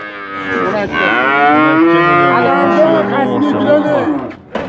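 A cow gives a long, loud, close moo with rising and falling pitch, lasting several seconds, followed by a brief pause and a short sound.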